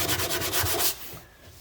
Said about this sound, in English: It's really difficult to get it off, but yeah, it's just scratched everywhere. So, but the 60 grit here is helping quite a bit.